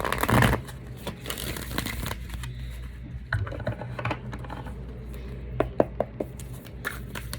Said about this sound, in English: We'll give it one more good shuffle.